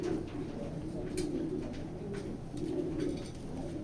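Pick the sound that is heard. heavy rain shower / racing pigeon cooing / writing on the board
racing pigeon cooing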